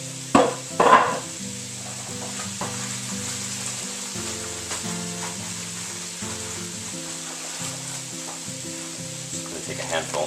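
Mushrooms and baby carrots frying in a pan for lentil soup, a steady close crackling sizzle with a few clattering stirs and utensil knocks near the start.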